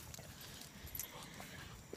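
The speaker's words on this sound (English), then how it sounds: "There's the dog, AC." A dog moves about outdoors in a garden: faint, soft footfalls and rustling under a low background hiss, with no clear barking.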